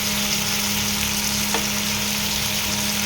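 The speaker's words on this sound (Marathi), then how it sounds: "कांदा आणि शिमला मिरची जवळजवळ एका पाठोपाठच घालायची, कारण शिमला मिरचीला पण फ्राय व्हायला टाईम लागतो." Chopped onion and capsicum fry in a pan, making a loud, even sizzle that runs close and unbroken, with one brief tap near the middle and no talking.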